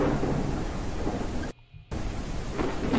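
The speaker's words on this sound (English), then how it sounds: "It's raining inside the building." Rain falls inside a building in the video game Together BnB, a steady dense wash with low rumbling, briefly cutting out to near silence before resuming at the same level.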